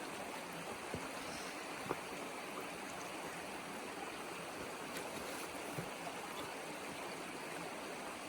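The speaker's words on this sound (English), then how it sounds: "Probably a better way to cross this river." A forest river flows steadily along a hiking trail in Green Ridge State Forest. The rushing water is close and continuous, with a few faint knocks and splashes and no talking.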